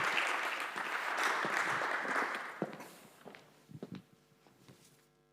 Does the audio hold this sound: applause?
yes